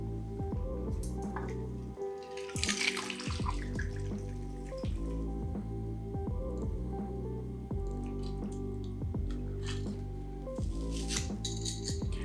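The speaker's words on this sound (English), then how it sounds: "So now we're gonna fine strain the cocktail over the champagne." A cognac-based French 75 cocktail is fine strained over champagne, producing a steady trickle and drip of liquid with fizzing and small squishy splashes, close and quiet, with a brief louder pour burst partway through.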